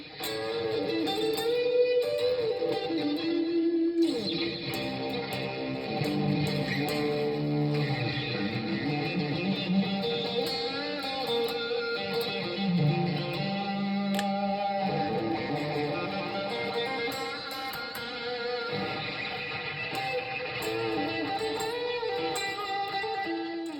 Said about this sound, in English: this is output 1, high distortion setting.